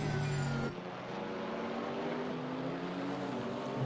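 GT4 race cars, a Chevrolet Camaro and an Alpine, lapping Misano in Assetto Corsa Competizione, with a steady engine drone and a gear change early on, sustained and fairly close with no talk.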